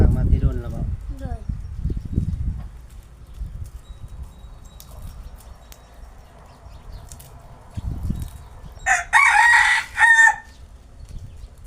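Rooster crowing once in a loud, strained call near the end, after stretches of low rumbling movement and faint background sounds, close to the listener.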